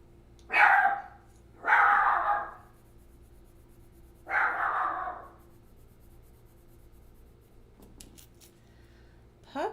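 A puppy barks three times at close range in short, loud bursts with gaps between them, then falls quiet apart from faint small noises.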